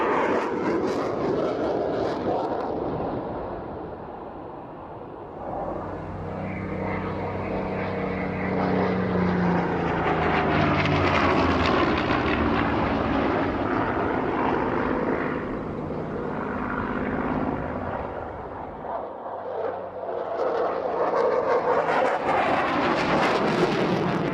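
Battle of Britain fighter aircraft flying at a Scottish airshow, an engine drone that swells as it passes close, fades, then builds again, heard alone without talk.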